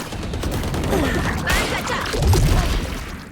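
Gunfire in the Valorant video game, rapid repeated shots in close bursts and the clatter of combat, with voices talking over it.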